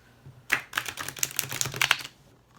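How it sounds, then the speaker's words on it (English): Oracle cards from the Magick and Mediums deck being riffle shuffled, a close run of quick papery flutters and snaps lasting about a second and a half, with no voices. "These cards give a nice rifle shuffle, by the way."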